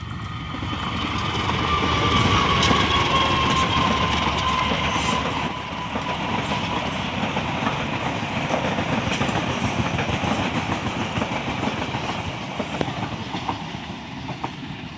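A passenger train rushes past at speed, wheels clattering rhythmically on the rails with a loud, steady rumble and a faint squeal for the whole stretch.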